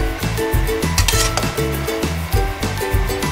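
Pork, the fatty pieces first and then the rest, stir-fried in oil in a wok, with a loud steady sizzle and rhythmic scraping and clinking of the spatula against the pan.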